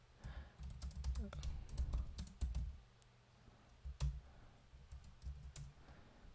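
Code being typed on a computer keyboard, with quick bursts of key clicks and taps, close and fairly quiet, pausing briefly before a few more scattered keystrokes.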